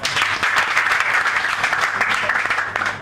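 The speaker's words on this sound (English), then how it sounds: "Please clap for him." A large audience at a graduation ceremony breaks into dense, sustained applause, loud and close throughout with no talking over it.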